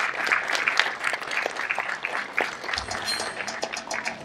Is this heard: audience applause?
yes